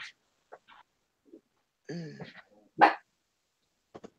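Small pet dogs yap in a handful of short, sharp bursts separated by quiet gaps, one louder bark standing out near the middle, with a voice briefly heard between them in a home setting.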